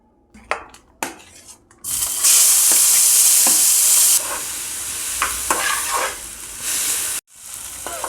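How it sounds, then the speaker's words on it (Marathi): Chopped vegetables, starting with capsicum, are dropped into hot oil in a pan, giving a loud sustained sizzle with stirring and clinks of a utensil against the pan, preceded by a few sharp knocks. "तुम्ही बघू शकता इथे तेल तापलेलं आहे, त्यामध्ये आपण आता चॉप केलेले व्हेजिटेबल्स एक एक करून फ्राय करून घेऊयात।"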